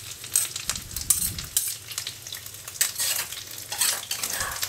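Shrimp, chili, garlic and shrimp paste stir-fried in a pan for a Thai chilli tamarind dip: steady close sizzling with repeated scraping and stirring strokes of a utensil against the pan.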